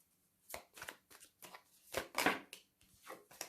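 Tarot cards cut and shuffled by hand, a series of soft riffling and slapping bursts, close and fairly quiet with short pauses between.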